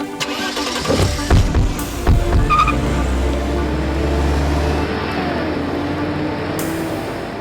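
A car engine starts with a few sharp mechanical clunks, then revs and settles into a loud, close, sustained rumble as the vehicle pulls away; no distinct tire skid stands out.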